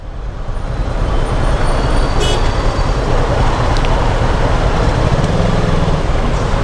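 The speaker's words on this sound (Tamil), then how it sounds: "ஐயோ இவ்வளோ டிராஃபிக்காக இருக்குது ப்ரோ" Heavy road traffic in a busy Tamil-speaking area, a dense, continuous roar of engines and tyres close by with a steady, unbroken hum and a few faint higher tones drifting over it.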